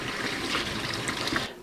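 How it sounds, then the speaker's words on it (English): Cold tap water runs at full blast over fish being rinsed, a short continuous splashing trickle of liquid with no voices, cutting off abruptly at the end. "Just rinse it out with cold water on full blast."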